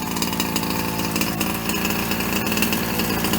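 A Rampage 36cc two-stroke engine runs hard during break-in, a loud, continuous buzzing roar with steady rapid firing pulses throughout, close by and with no voices.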